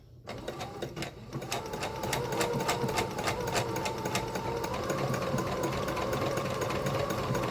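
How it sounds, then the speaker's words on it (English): A sewing machine stitches through a single layer of fabric for holiday gift bags, giving a steady, fast mechanical whir and needle clatter that runs continuously and close. "I'm only stitching through one layer of fabric."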